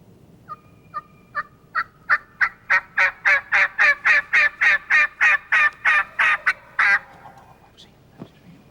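A wild turkey gobbler in hardwood hill country at daybreak during spring hunting season, gobbling in a quick, loud burst of rattling pulses that builds and then breaks into a few scattered notes at the end.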